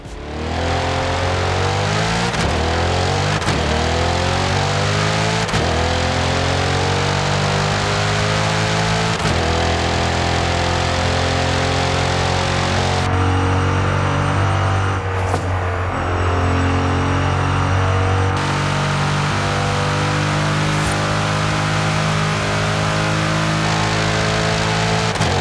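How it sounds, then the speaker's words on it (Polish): Chevrolet Corvette engine revving in Forza Horizon 5, a loud, close, aggressive roar that sweeps up and down through repeated rising revs and drops while stationary and unloaded, with no talk. "Ta brzmi tak super agresywnie"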